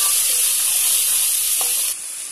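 Chicken sautéed with chili, coriander and chicken masala powder sizzles loudly in a hot pan for biryani, a constant close frying hiss with light stirring scrapes.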